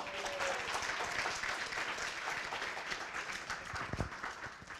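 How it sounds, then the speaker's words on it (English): Conference audience applause after a business talk, a fairly quiet, uneven patter of clapping from a modest crowd, with a sharp knock near the end. "I will gratuitously ask for a round of applause"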